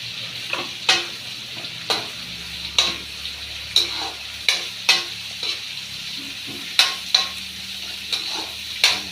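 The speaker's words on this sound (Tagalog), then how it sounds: "Halo-halo po natin ang ating carrot" Carrots sizzle in a frying pan alongside sausage while a utensil stirs them, a steady hiss broken by about a dozen sharp scraping clacks at an irregular pace, close and alone with no talk.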